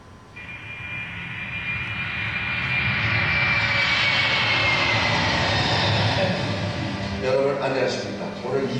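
Steady airplane engine drone inside a passenger cabin, a broad continuous roar holding loud throughout, with a brief voice near the end.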